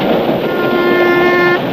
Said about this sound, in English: As the train zoomed along